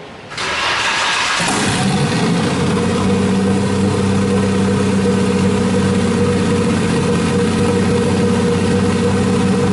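An RB26 engine swapped into a Subaru WRX cranks and catches, then settles into a steady, even idle that hums on close by with no talking.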